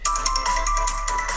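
A mobile phone ringtone plays a loud, close, repeating electronic melody with bright tones. It is heard alone, in the setting of a Spanish-language geography class.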